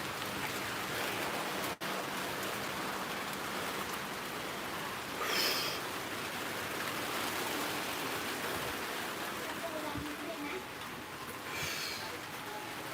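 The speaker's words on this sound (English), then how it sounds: "It is raining." Steady, moderate rain falls around a walker in the Klongtoey slum neighbourhood of Bangkok, a continuous broadband hiss with a few brief nearby clatters and scrapes, with no speech.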